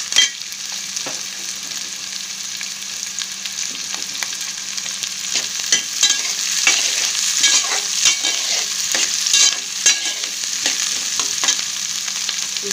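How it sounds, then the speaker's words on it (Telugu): Onions and green chillies fry in a pan with ginger and garlic, a steady close sizzle throughout with frequent scraping clicks of a spoon stirring, no voices. "ఉల్లిపాయలు ఫ్రై చేసుకుందాం. అలాగా ఇందులోకి ఇప్పుడు పచ్చిమిరపకాయలు కూడా"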